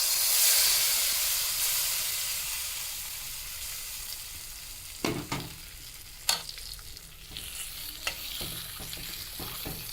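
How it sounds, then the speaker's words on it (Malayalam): Hot tempering of mustard seeds, curry leaves and dried chillies hits a pot of Kerala curry with a loud hissing sizzle that slowly fades, followed by a few scattered clinks and taps of utensils. "അപ്പൊ ഇനി നമുക്ക് താളിച്ചതും കൂടി ഒഴിച്ചു കൊടുക്കാം"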